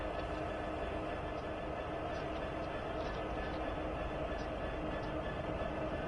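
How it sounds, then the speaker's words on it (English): Train rumbling continuously in Train Sim World 4 on Cajon Pass, a steady close roar with faint higher rail tones throughout, while people talk over it. "I hear a train."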